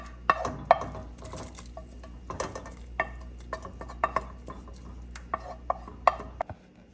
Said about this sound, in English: Now I'm adding the mushrooms, the fried mushrooms and the onion into the soup.